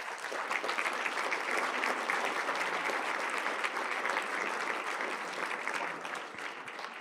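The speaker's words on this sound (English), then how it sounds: "Let's give all of our speakers a round of applause." Convention audience gives the session speakers a sustained round of applause at an industry event, a steady, full wash of clapping from a large room that eases off near the end.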